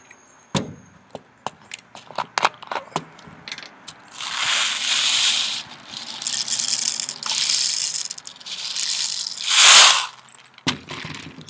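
Small 0.2 g airsoft BBs rattle and clatter inside a plastic bottle, first in sharp separate shakes, then in longer continuous bursts of loud rattling.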